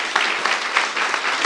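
A church congregation applauding during a youth-group sermon, a dense burst of many hands clapping close and loud, filling the short moment with no voices over it.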